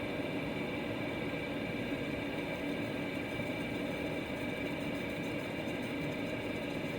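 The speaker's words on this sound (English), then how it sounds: "the compressor may have just turned off" A compressor in a cargo camper battery build hums steadily with a continuous mechanical drone and hiss, constant in level and unchanging throughout, heard close with no speech.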